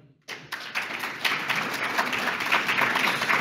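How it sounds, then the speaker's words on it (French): Applause from the audience at a public round table on renovation aid, starting abruptly and building into steady, dense clapping throughout. "vous pouvez d'ailleurs vous applaudir"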